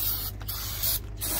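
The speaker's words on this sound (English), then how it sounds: "They don't sell O'Reilly brand brake cleaner in these parts." O'Reilly brand brake cleaner sprayed from an aerosol can in two short hissing bursts over a steady background hum.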